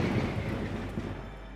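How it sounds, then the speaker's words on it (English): A loud, deep rumble of thunder rolls through a terrible storm, a single heavy sustained boom that slowly fades over a second or two. "causing extra loud thunder. It was a terrible storm."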